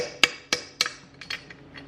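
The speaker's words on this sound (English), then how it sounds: "Let's hammer out this pin real quick." Hammer blows driving an old pin out of a BMW E28 driveline, a few sharp metallic strikes close by, the first three louder and evenly spaced, then lighter quick taps.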